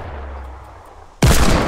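A single loud hand cannon shot in a video game cracks out abruptly after a quiet, low rumbling lull, its blast filling the remaining moment.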